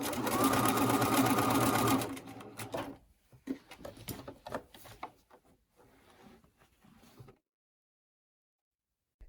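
A sewing machine runs a fast, steady stitch while attaching a four-hole button. The machine stops after about two seconds, followed by close handling clicks and rustles, then silence.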